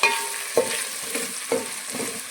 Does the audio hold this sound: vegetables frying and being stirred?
yes